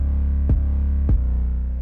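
A distorted, grungy 808 bass holds a sustained, buzzy low tone, with two brief punchy hits that retrigger it in a rap beat. No voices are present.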